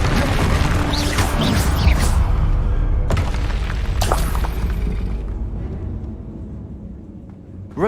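A Bombarda spell explodes in Hogwarts Legacy on PS5. A loud, sustained booming blast rumbles with crashing and shattering debris, then fades toward the end.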